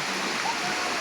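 A river waterfall pours down steadily while children stand beneath it, a dense continuous splashing rush heard close and fairly loud for a brief moment.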